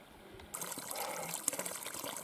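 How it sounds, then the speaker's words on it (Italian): Spring water at Fonte Pianicelli on the Pollino massif trickles and splashes steadily, a soft close dribble that starts abruptly after a brief quiet moment, with no talk. "è veramente incredibile l'acqua che scorre"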